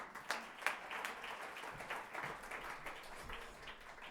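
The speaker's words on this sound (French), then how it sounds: "On l'applaudit." An audience claps for a speaker at a talk: a short, fairly faint patter of applause that rises and tails off over a few seconds, heard from within the room.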